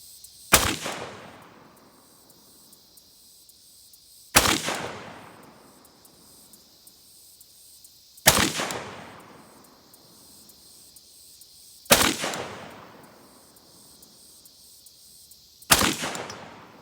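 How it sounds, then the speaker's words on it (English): A Lewis Machine & Tool LM308MWS rifle fires unsuppressed, five loud single shots spaced about four seconds apart, each with a sharp crack and a long decaying echo over faint background insects. "I'm just shooting unsuppressed for now."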